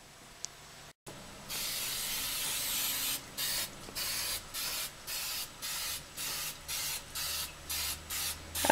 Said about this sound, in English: spray your pan before you even start